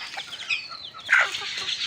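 Mother hen and young chicks clucking softly while pecking at broken rice in a backyard, with light scattered calls and one brief louder cluck near the middle.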